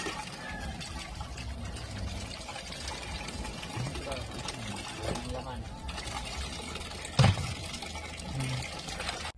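Water runs from a hose fed by a troublesome pump machine, a steady pouring and trickling wash with a faint engine hum, while people talk over it and a brief knock stands out near the end.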